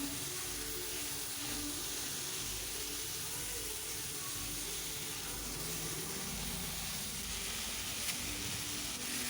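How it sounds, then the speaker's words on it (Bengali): Pumpkin frying in very little oil while being stirred repeatedly, a steady soft sizzle and hiss with faint scraping, continuous and fairly quiet throughout. "যেহেতু খুব কম তেলে রান্না করছি, তার জন্য বারবার নাড়াচ্ছি তল থেকে যাতে লেগে না যায়।"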